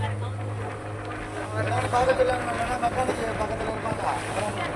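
A motorboat on a sea ride at Mallipattinam, with spray hitting passengers, gives a steady low engine drone and rushing water, close and continuous, with people talking over it.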